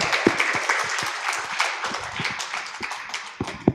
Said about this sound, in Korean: 정유진 박사님께 여러분 박수 부탁드립니다